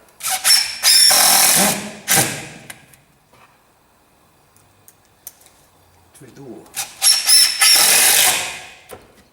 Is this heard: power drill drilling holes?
yes